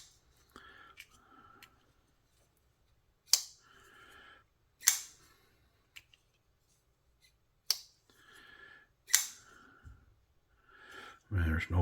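A TwoSun TS36 folding knife snaps open and shut in four sharp, close clicks spaced a few seconds apart, with quiet talk between them and a soft handling rustle near the end.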